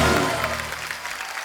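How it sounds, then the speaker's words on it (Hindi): On a Kapil Sharma comedy show stage, a studio audience claps for Jackie and Tiger in a steady, dense burst of applause, loud and close, lasting only a moment. "जैकी और टाइगर के लिए जोरदार तालियां।"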